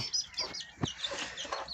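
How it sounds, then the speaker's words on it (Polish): Broody hens cluck and murmur in short repeated bursts, fairly close, with faint high chirps of chicks mixed in and no speech. "A teraz mamy dwie kwoki"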